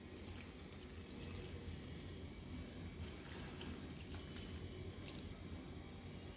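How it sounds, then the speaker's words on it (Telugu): Water is poured over sliced, peeled bitter gourd rounds in a kitchen vessel, a soft, steady trickle and splash running for several seconds, quiet and close with no talking. "తర్వాత ఈ ముక్కలు మునిగేంత వరకు నీళ్లు పోసుకుందాము"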